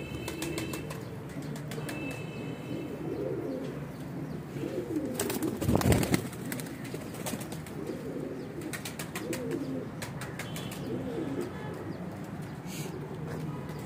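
Pigeons coo in repeated soft, throaty phrases, with a burst of wing flapping partway through. Someone speaks faintly in the background.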